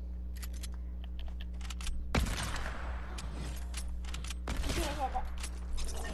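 Gunfire in a shooter video game: two sharp bursts of shots ring out over a steady electronic game hum, with faint clicks and small sounds scattered between them.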